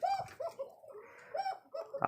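Rajshahi Giribaj pigeons, two pairs of males in a farm collection, give soft low cooing calls in a few short rounds, near and fairly quiet, with no talking.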